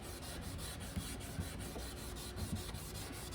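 Fine grit wet sandpaper rubs across a car headlight lens in quick, steady back-and-forth strokes, a soft close-up scratching with faint periodic scuffs and no talking.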